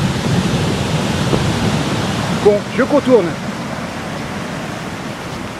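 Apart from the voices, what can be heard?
Indian Ocean waves on a beach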